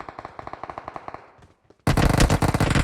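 Rapid bursts of Uzi submachine gun fire in PUBG Mobile on the Livik map, a steady rattling stream of shots followed by a louder, denser volley close by.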